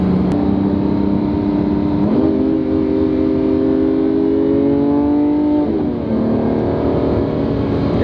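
A Lamborghini SVJ engine revving in steady, loud sweeps that rise and fall twice, held close with a continuous strong drone; no distinct backfire pops stand out.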